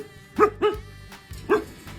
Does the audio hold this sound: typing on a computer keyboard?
no